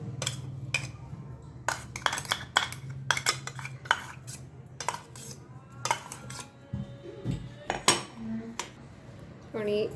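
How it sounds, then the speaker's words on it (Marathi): A spoon knocks and scrapes around a metal bowl again and again, close and uneven, as ground chili, garlic and fennel are worked into an urad dal vada batter; a voice is briefly heard in the background. "आणि आपण यामध्ये मिक्स करून घेणार आहोत."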